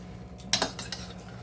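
Soy chunks (meal maker) and masala being stirred in a pan, with a short burst of spoon scraping and clinking against the metal pan, close and moderately quiet.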